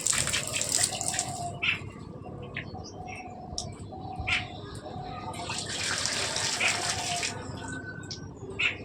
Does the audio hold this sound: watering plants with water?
yes